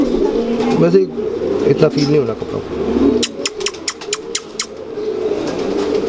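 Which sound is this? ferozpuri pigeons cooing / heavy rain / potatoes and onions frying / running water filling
ferozpuri pigeons cooing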